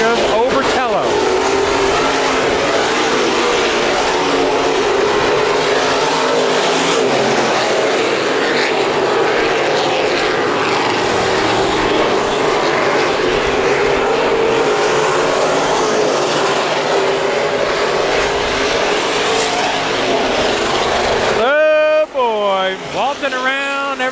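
IMCA Modified race cars roar around the dirt oval at Perris Auto Speedway, a dense, continuous engine drone from the pack with passing swells, and an announcer calls the race over it.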